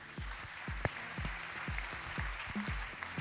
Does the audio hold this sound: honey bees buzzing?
no